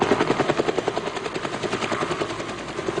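A rescue helicopter's rotor thuds in a fast, steady rhythm, loud and close, with constant turbine whine underneath throughout.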